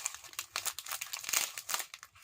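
Plastic bags from a diamond painting kit crinkle and rustle close by in a quick, uneven flurry of sharp crackles, with no voices.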